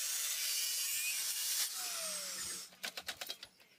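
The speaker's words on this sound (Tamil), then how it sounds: "அதோட கட் பண்ணி ரிமூவ் பண்ண போகிறோம்." A power tool cuts through a metal part of a TVS XL moped in a workshop, a steady loud whine that then breaks into a rapid series of harsh grinding bursts near the end.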